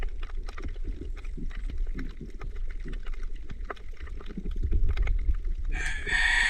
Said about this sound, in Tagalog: Andiyan na naman yung pasaway na manok.